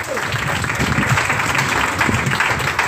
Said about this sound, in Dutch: Mag ik nogmaals een applaus voor Gerani Loding.